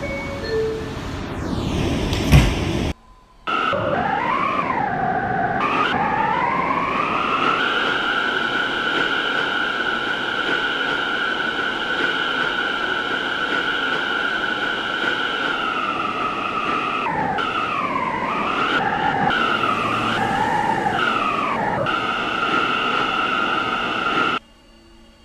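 A brief clunk of subway doors closing in a Roblox game, then an R179 subway train's electric motor whine rises in pitch and holds a loud, steady tone, wavering a few times as it departs.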